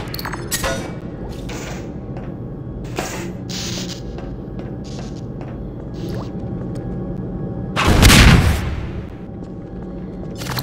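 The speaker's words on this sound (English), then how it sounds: "Shotgun is always good." Shotgun blasts in the video game Half-Life 2: a few sharp discharges, with one heavy, booming shot near the end standing out over a steady in-game background rumble.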